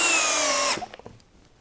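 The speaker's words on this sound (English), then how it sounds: "Let's set it on speed 2 in drill mode. See how it does driving these larger drywall fasteners." A SKIL PWRCore12 hammer drill on speed 2 in drill mode whines loudly as it drives a large drywall fastener, then stops abruptly with a few faint clicks and knocks after.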